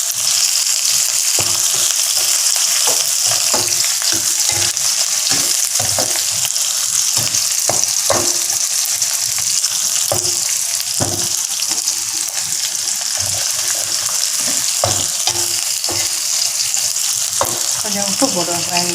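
Dried red chillies, green chillies, pepper, garlic and curry leaves fry loudly in hot oil for stir-fried mutton tripe, a dense continuous sizzle close up, broken by frequent scraping and stirring knocks.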